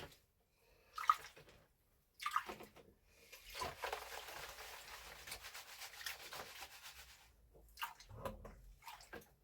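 Gold panning: dirt and black-sand material swirled and scraped in a pan of water, giving a couple of short sloshing bursts and then a long, steady swishing wash, close by with no talking.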